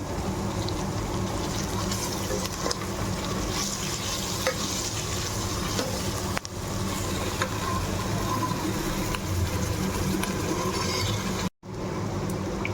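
Salt, red chilli powder, turmeric, coriander-cumin powder and garam masala stir-fry with vegetables for pulao, giving a continuous close sizzle with scraping stir strokes and a brief dropout near the end.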